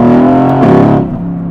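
Mercedes-AMG GT S Edition 1 turbocharged engine, a loud, close, deep growl that swells briefly and then settles back to a lower rumble, with no talking.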